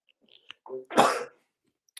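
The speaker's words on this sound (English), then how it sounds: "Had to sneeze there." One sharp, close sneeze: a quick intake of breath followed by a burst of explosive noise, then silence.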